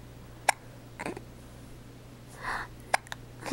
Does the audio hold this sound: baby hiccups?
yes